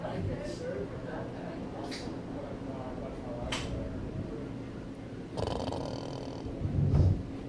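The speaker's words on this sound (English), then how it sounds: "was that me snoring?" A person snores softly in the background of a live street-traffic stream, with faint irregular snorting breaths and a slightly louder rough snore near the end.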